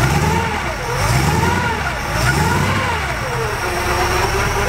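A T-Bucket hot rod engine running on three deuce carburetors with all three hooked up, idling loud and close with a steady throb and gentle rises and falls in revs.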